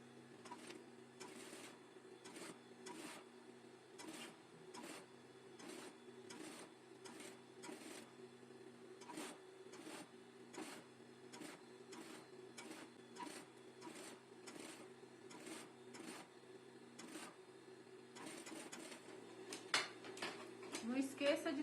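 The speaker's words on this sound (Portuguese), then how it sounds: "Vou costurar." Sewing machine stitching fabric pieces for a homemade kitchen kit, running in steady repeated bursts of rapid needle clatter with brief pauses between, close and moderately loud, with a light mechanical hum underneath.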